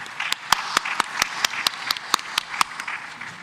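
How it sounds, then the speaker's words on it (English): Applause from the audience at a closing ceremony, sparse and uneven, with a few loud individual claps standing out sharply over a softer patter of hands. "A round of applause,"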